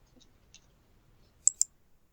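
Two quick, crisp computer mouse clicks close together near the end, after a quiet stretch with only a couple of faint ticks.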